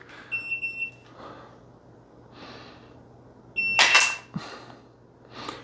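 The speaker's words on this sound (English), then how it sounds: "Really working on responding immediately to the beginning of that beep." A shot timer gives electronic start beeps for handgun draw practice: a short, sharp, high-pitched tone pair near the start and a loud beep later, each followed by bursts of noise, close and fairly loud.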